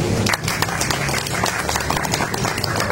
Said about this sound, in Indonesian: Jadi aplaus untuk Mas Harul.